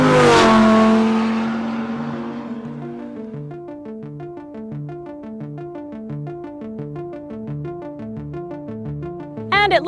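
An Audi R8 Plus with a detuned 540-horsepower V10 wails loudly as it accelerates, each rising gearshift note stepping up through the revs in a steady, near, sustained engine scream with no talking.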